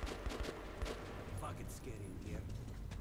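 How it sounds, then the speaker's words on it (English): Rapid gunfire from the video game Metro 2033, a dense crackling fusillade of shots running continuously at moderate loudness for a few seconds, with no one speaking. "Why are you shooting?"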